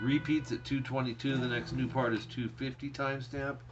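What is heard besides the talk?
No distinct noise like a dog, phone or traffic.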